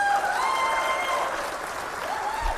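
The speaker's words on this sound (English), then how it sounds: "A big round of applause." A crowd applauds at a national sport climbing championship, a continuous round of clapping from spectators with some voices and tonal whistles or calls mixed in, steady and fairly loud.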